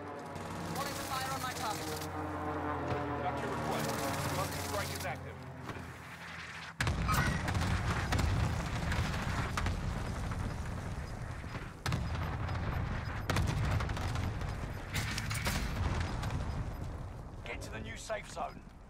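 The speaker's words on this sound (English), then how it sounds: "Precision airstrike. Stay alert." Precision airstrike explosions in the Warzone video game land as loud, sustained booming blasts, with a sharp new impact near the middle of the clip and another shortly after, following a quieter tonal stretch at the start.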